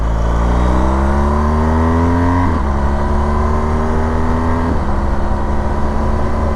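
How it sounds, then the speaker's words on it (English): A new BMW GS Adventure motorcycle accelerates through the gears, engine note climbing steadily and dropping at two shifts with small exhaust pops, loud and close with wind throughout. "It's weird how you hear the little pop in the exhaust."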